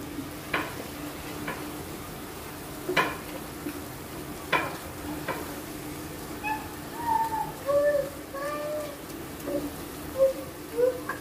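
Sweet potato mixture for sweet potato laddu, with milk powder and a pinch of salt, fries in a pan while being stirred, giving scattered scrapes over a soft sizzle, with birds chirping in the background during the second half.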